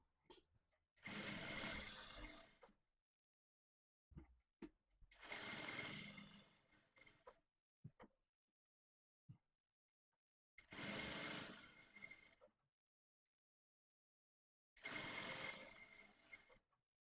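Sewing machine stitching parallel boning channels into a corset, running in four steady bursts of about two seconds each separated by pauses, with small clicks and handling noises between runs.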